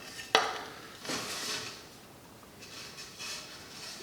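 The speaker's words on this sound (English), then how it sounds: "It's a drawer." A drawer in a camp kitchen chuck box is pulled open and pushed shut, a sharp knock followed by sliding wooden scrapes and softer thuds, close and clear with no talking.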